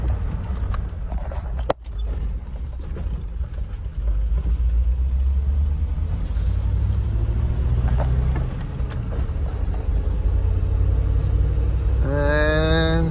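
A 1997 Land Rover Discovery with a manual gearbox and a newly replaced rear flex disc drives along with a low, steady drivetrain rumble, the drone rising and easing slightly, interrupted by a sharp knock early on.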